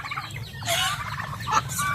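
A flock of backyard native chickens clucks and murmurs nearby, with overlapping calls swelling midway and a sharper cluck toward the end.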